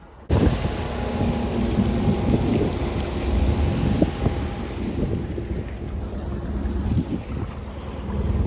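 A small skiff motors over light chop off Florida, engine droning under gusty wind buffeting the microphone, with a few thumps as the hull meets small waves.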